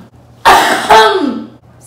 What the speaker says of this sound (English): You're going to cough while you open it up.